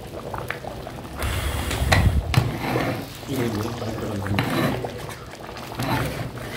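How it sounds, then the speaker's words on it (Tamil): A large pot of water with rice for a chicken dum biryani bubbles and churns at a steady, fairly loud boil, with busy gurgling and spluttering throughout and talk over it in places. "அரிசி போட்டு இப்போ பாயிலாக ஆரம்பிச்சிருச்சு."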